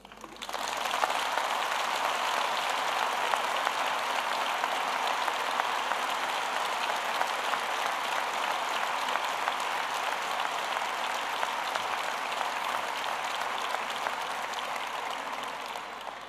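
Indoor audience applause at a political speech in Spain, a dense steady clatter of many hands sustained evenly for about sixteen seconds at moderate distance, with no voices rising above it.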